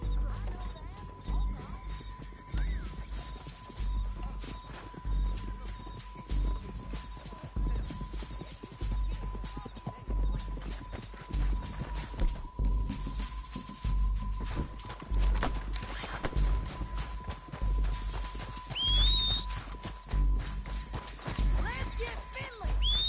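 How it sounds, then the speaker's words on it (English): Horses gallop in Red Dead Redemption, with rapid hoofbeats and clattering running steadily under frequent shouting voices and game noise. "horses!"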